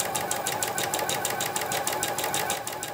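A sewing machine runs a seam along the edge of a fabric bag with a guide on the presser foot, its fast, even stitching rhythm loud and close for the full stretch, with no speech.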